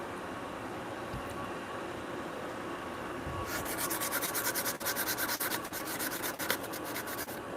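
Sandpaper rubbed over wooden dovetail rungs in a home woodworking shop, starting after a few seconds of low background noise and continuing as steady, rhythmic back-and-forth scratchy strokes, close and fairly loud, with no talking.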